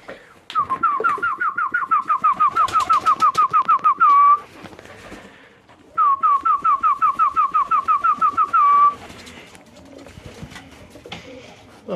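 Ornamental pigeons give two bursts of rapid, evenly pulsed cooing calls, each lasting about four seconds with a pause between, close and clear, with no voices over them.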